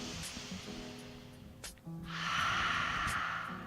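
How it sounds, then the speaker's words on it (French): Slow, deep breathing during a guided relaxation exercise: a soft inhale, a brief pause, then a longer, louder breathy exhale through the mouth, close and quiet. "Inspire jusqu'à tes épaules. Expire par la bouche."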